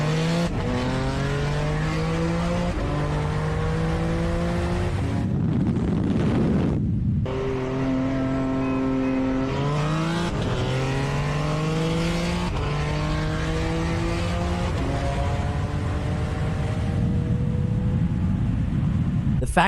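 BMW G80 M3 and Corvette C8 roar through a rolling drag race, engines revving hard up through repeated gear shifts with rising and falling pitch, loud and close throughout, and a voice talking over the engines.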